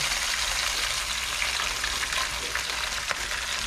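Fish frying steadily in a hot pan over a campfire-style outdoor cook, a dense continuous sizzle and crackle with occasional sharper pops, close and loud throughout, no voices.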